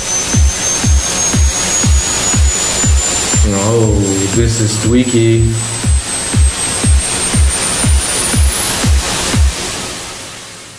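Tuned riser synth effect made in Logic Pro X, a thin whistling tone sliding slowly upward through a wash of loud noise over a steady pulsing beat, with a brief spoken remark partway through.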